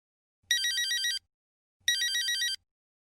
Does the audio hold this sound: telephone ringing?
yes